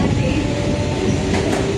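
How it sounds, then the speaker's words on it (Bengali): A passenger train rumbles along in a loud, continuous, close drone heard from on board, with faint rail rattle running through it. "ট্রেন যাচ্ছে, আমাদের ট্রেন যাচ্ছে।"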